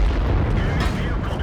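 A tank blows up in the World of Tanks video game: one heavy, low booming blast that fills the short moment at full strength, close and loud, with no gaps or separate repeats.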